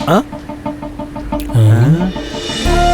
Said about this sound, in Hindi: इस छोटे से पिंजरे में मुर्गी कैसे फंस गई?